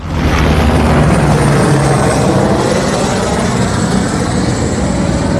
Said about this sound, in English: Helicopter coming in real low.